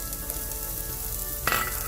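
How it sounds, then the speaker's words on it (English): Onions sautéing in a tablespoon of oil in a pan on the stove, a brief, even close sizzle with one sharper crackle of stirring near the end. "We're going to start first by sauteing our onions."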